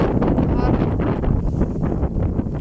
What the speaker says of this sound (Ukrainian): Хоча дуже вітряно у нас. Вже там вітер